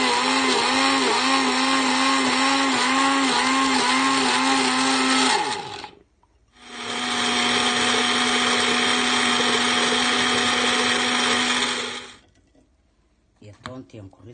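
A blender grinds coriander, garlic and onion with water in two loud, steady bursts separated by a short pause, the motor pitch wavering in the first run and holding steady in the second before cutting off.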